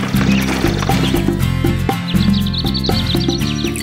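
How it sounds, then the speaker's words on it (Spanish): A horse neighs and its hooves clip-clop over a loud, rhythmic musical backing in a children's story, the animal sounds mixed close and prominent. "tenía un caballo muy perezoso que siempre evadía el trabajo"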